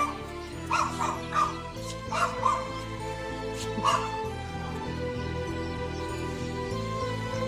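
A dog barks and whimpers in a few short, high yips over the first few seconds, then a steady droning background carries on without the dog.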